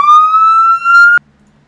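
A synthetic police siren from Roblox Studio sounds as a single rising electronic wail with bright harmonics, loud and close, cutting off abruptly after about a second.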